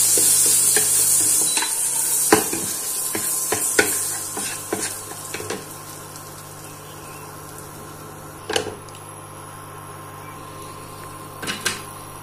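Butter melting and sizzling in a pan for paneer butter masala, a bright hiss that fades over the first few seconds, broken by scattered clicks and knocks of utensils, close and with no voices.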